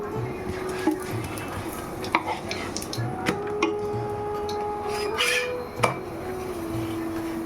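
Sugar syrup bubbles with ghee in a pan on a gas stove, giving an even background sizzle with scattered light clinks and scrapes from stirring and a faint steady hum underneath.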